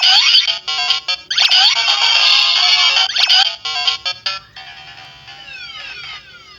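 Busy run of tinny electronic beeps and chiptune bursts from a Kamen Rider DX Gashat toy's losing effects, loud and choppy with short gaps, trailing off into quieter descending blips toward the end.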